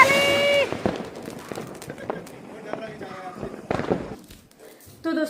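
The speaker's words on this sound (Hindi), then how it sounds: "पटाखे वटाखे थोड़े से फोड़ लिए" Diwali firecrackers burst at night, with several sharp cracks and bangs scattered unevenly, some near and some farther off, mixed with footsteps and a loud tonal whistle at the start.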